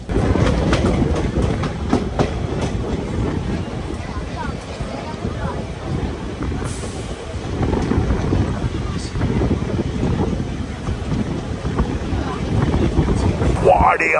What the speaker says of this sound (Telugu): top cruising speed 109 kilometres per hour cruising speed లో క్రూజ్ అవుతున్న గౌతమి సూపర్